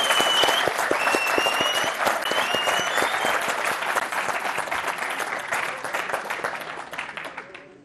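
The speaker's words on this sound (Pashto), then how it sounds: "نو په ویاړ یو چکچک یې خو وکړې که نه" Audience applause fills the whole stretch, a dense steady clatter of many hands clapping that tapers slightly toward the end, with faint voices and a few whistles carrying over it.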